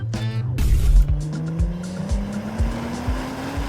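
A fake GTR Skyline replica with an automatic transmission revs up and accelerates, engine pitch climbing steadily while tires chirp in rhythmic bursts, loud and close.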